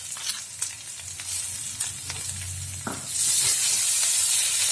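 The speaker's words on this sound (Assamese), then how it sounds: "এইখিনি মই কেঁচা গোন্ধ যোৱালৈকে ভাজি ল'লোঁ, আদা নহৰুখিনি।" Ginger and garlic fry in a pan with oil, a steady close sizzle with occasional stirring scrapes, the hiss swelling louder near the end, no talking.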